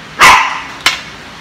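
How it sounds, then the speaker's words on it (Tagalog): Dog barking indoors at home, one loud close bark followed by a shorter, sharper second bark, with no one talking. "Hindi na kailangan pang turuan yung aso na tumahol."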